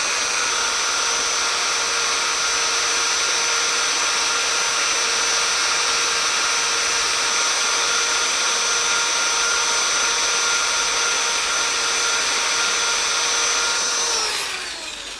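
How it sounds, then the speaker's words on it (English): Power sander with a 2-inch disc running against a turned wooden cross, a steady high motor whine and abrasive hiss held constant for about fourteen seconds, then winding down at the end, close and loud. "With a 2-inch disc, I simply come in and run the edge of that sander up"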